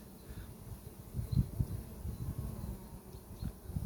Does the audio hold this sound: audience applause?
no